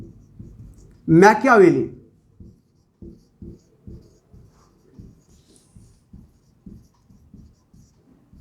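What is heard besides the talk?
writing on a board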